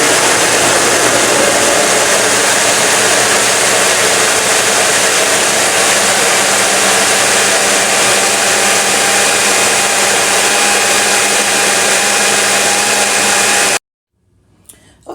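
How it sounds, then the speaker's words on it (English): A blender grinds green smoothie ingredients in a steady, loud, unbroken whir that runs for about fourteen seconds, then cuts off abruptly and leaves near silence. "now it is time to grind these ingredients up together"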